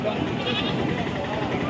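Goats bleat at a busy outdoor goat market, short calls rising over a dense murmur of crowd chatter and people talking nearby.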